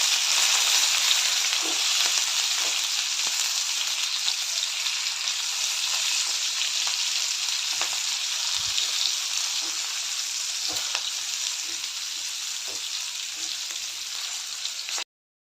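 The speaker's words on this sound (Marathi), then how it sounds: "आता ह्या मिरच्या थोडंसं यामध्ये फ्राय करून घेऊया" Green chillies stuffed with besan shallow-fry in oil with a steady, loud, hissing sizzle that carries on throughout, with only small faint pops. There is no talking.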